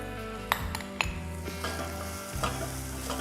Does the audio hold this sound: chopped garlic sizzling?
yes